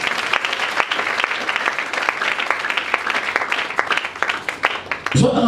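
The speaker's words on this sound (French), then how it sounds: "Acclamons très fort pour le Seigneur." A church congregation claps loudly during a Sunday service, a dense, fast patter of hands that keeps going throughout, with some voices mixed in.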